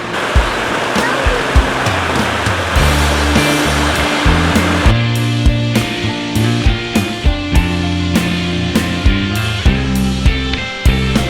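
Creek water at Bear Creek Preserve in the Pocono woods rushes in a steady, broad, close wash, partly covered by rhythmic music with regular beats.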